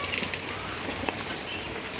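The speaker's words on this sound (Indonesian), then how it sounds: "Hujan. Kita hujan-hujanan kali iki pemirsa." Rain falls steadily outdoors in a Javanese neighbourhood, a soft, continuous hiss of drops on surfaces with no talking.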